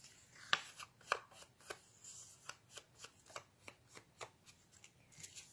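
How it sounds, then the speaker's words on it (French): Scrapbook paper strips are distressed by hand with ink, giving a steady series of soft, quick brushing and rubbing strokes, close and faint, with no talk. "antiquer mon papier."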